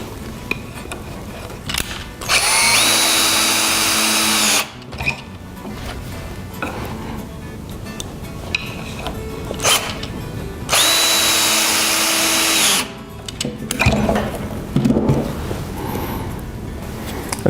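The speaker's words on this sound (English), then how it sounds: "Now all I have to do is drive the screws. These are square drive screws" A cordless drill fitted with an extended square drive bit drives square drive screws into pocket holes in a wooden face frame, with two loud sustained bursts of motor whine separated by quieter handling noise.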